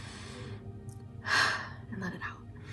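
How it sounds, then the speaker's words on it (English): A single deep inhalation taken close to the microphone, a soft rising breath that peaks around the middle and then trails off into quieter breathy sounds. "take a deep breath in"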